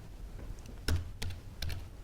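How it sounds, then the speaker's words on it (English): Computer keyboard typing during an OpenStack cloud computing demo, a handful of distinct close key clicks at an uneven pace over quiet room noise, with no speech. "typing the NPTEL VM name and the flavor"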